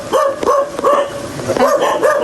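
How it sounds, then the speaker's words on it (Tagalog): Dogs bark over and over near a fishpond by a river. The barks come in a fast, loud run with whimpering yips between them. "Marami pong aso dito sa may fish panda. Maraming bantay."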